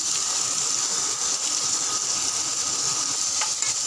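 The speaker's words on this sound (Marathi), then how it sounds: "आता आपण त्याच्यात घालूयात कापलेला कांदा." Chopped onion frying in hot oil with curry leaves in a pan, a steady close hissing sizzle that holds evenly throughout, with no talking.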